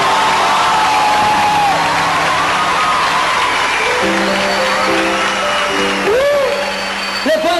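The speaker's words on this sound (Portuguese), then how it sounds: "Uma salva de palmas para Maria Santíssima, porque ela merece." Audience applause and cheering at a Catholic church event honoring the Virgin Mary, a dense, loud, sustained wash of clapping and whoops with a steady organ-like tone and sliding voices over it.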